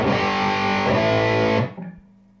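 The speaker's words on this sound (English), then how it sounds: "the bass up full EQX sounds like this" An electric guitar plays through a Carvin V3M amp with bass turned up full and EQX on, a thick, heavily distorted sustained chord that rings loudly for about a second and a half before being choked off.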